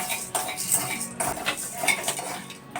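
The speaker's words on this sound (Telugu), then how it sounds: "ఇలా కంటిన్యూస్గా కలుపుతూ ఉండాలి" A metal spatula scrapes and clinks continuously against a kadai while dry-roasting ingredients over a medium flame, a busy, close run of stirring clatter.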